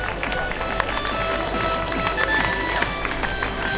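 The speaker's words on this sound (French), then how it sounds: "Mesdames et messieurs, applaudissements pour ce très joli podium." Crowd applause for the women's podium at a triathlon prize-giving in Troyes, steady dense clapping with scattered cheers and voices throughout, moderately loud and continuous.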